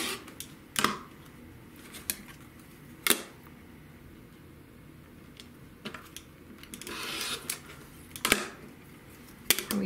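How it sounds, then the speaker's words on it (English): Sharp, isolated snips from cutting quilt fabric pieces, several crisp clicks spaced a few seconds apart over a quiet background with no talk. "We take this piece and we cut it with the right sides down."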